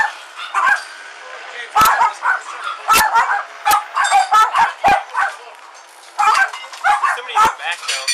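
A dog barks repeatedly in sharp, loud bursts mixed with yips, heard during a police confrontation while officers shout over it.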